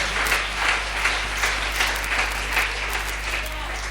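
A church congregation applauds steadily and loudly, with dense clapping running the whole time and no pause.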